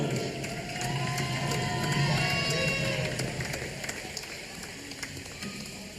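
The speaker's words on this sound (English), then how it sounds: "let's all give a collective round of applause to our Vincennes University women's basketball team sophomore" A basketball arena crowd claps and cheers to honor the Vincennes University women's team sophomores, with a steady wash of applause, some whistles and voices mixed in, and shoe squeaks and footsteps nearby.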